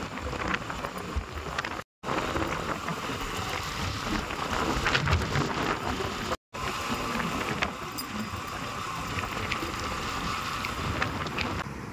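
Heavy rain pours steadily in Saswad, a dense, loud wash of hiss and patter that continues with no voices, cut by two brief dropouts.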